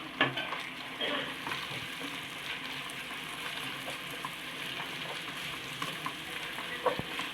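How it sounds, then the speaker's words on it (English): Ginger garlic paste frying in a pan on a lowered flame for vanjaram fish biryani gives a steady, dense sizzle throughout, with a few faint utensil clicks near the start and end. "And fry again till the raw smell goes off"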